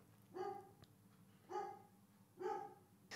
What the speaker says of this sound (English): You can probably hear my dog barking in the background.